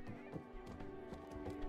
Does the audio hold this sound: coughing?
no